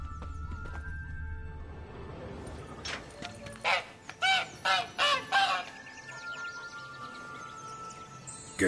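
A free-range goose honks in Blood and Wine, The Witcher 3, giving a run of five or six loud nasal honks in quick succession over a quiet background hum.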